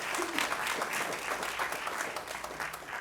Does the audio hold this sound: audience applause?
yes